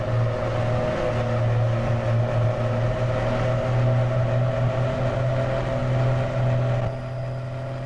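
Mercedes-Benz 1620 truck engine in Euro Truck Simulator 2, a loud, steady low droning hum held throughout with no talk, easing slightly in level near the end.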